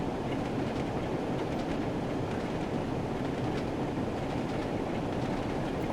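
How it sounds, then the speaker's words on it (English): Simulated train rolling along a West Cornwall local line in Train Sim World 2, a steady close rumble of wheels on rails with faint rhythmic clickety-clack over the track joints, continuous for the whole stretch with no talk. "We had the clickety-clack then"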